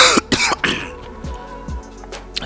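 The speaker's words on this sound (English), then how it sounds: "I am coughing" A person coughs several times in quick, harsh bursts, close to the microphone, followed by quieter throat-clearing sounds.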